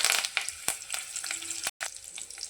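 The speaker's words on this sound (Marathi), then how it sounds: "तेल गरम झालेलं आहे, याच्यामध्ये जिरा मोहरी टाकून घेऊया।" Cumin and mustard seeds hit hot oil in a pan for a Maharashtrian roasted brinjal curry, crackling and popping in sharp bursts over a soft sizzle. There is a brief cut near the end.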